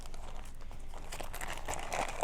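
A small plastic bag holding a care booklet is handled close up, giving continuous soft crinkling and rustling with sharper crackles toward the end.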